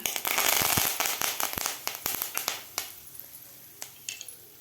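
Six to seven curry leaves are dropped into about two spoons of hot oil in a kadhai for Mumbai-style vada pav chutney, bursting into a loud spitting crackle that quickly thins to scattered pops and sizzles.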